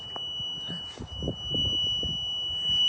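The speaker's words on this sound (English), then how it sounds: "I think you can hear that beeping." A steady, high electronic tone sounds continuously from a continuity tester checking a 2011 Mercedes C250 CDI's wiring, with clunking and rattling of handled parts underneath.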